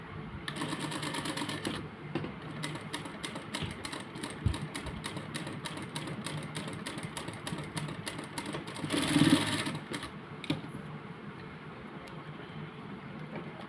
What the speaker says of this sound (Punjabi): ਤੇ ਇਸ ਤਰ੍ਹਾਂ ਕਰਕੇ ਨਾ ਆਪਾਂ ਇਹਨੂੰ ਸਲਾਈ ਲਾ ਦਿੰਦੇ ਹਾਂ